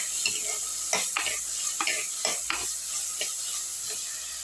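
Two medium tomatoes and a medium onion sauté in a pan for sambar under a soft continuous sizzle, with a spoon scraping and stirring in repeated strokes about every half second.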